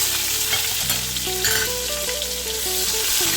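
Chopped onions fry in hot oil with whole spices for a spicy chicken kosha, a loud, even crackling sizzle close by, with no voices.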